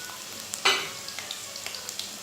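Sliced onions hit hot oil for vegetable fried rice, a sharp burst of sizzle at the start followed by a softer continuous crackle with small spatters and stirring ticks, close up and without speech.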